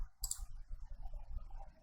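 A single sharp mouse click while working in Photoshop, near and crisp, followed by faint low rumbling room noise.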